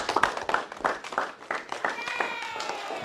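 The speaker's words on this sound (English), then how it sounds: "Give yourselves a round of applause" Elementary school students clap in a scattered, uneven round, with sharp individual claps early that thin out as children's voices and chatter rise over them toward the end.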